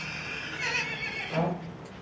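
A mare whinnies loudly nearby on a horse farm, a long shrill neigh that rises and falls over quiet background noise.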